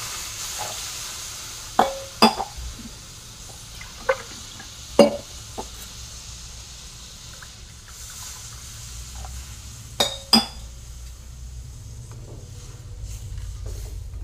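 A pan of green chickpea-leaf vegetable dish gets water poured in and stirred, with a soft simmering hiss broken by several sharp spoon clinks against the pan, heard alone.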